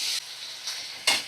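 Potatoes fry in a pan with cashews and ginger-garlic paste, giving a steady close sizzle with bursts of louder hissing as they are stirred.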